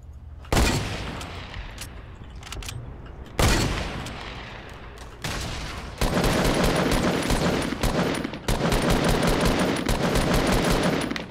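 Bursts of automatic gunfire from a Fortnite match, loud and close, starting as separated volleys and then turning into sustained rapid fire with brief breaks, and no talking over it.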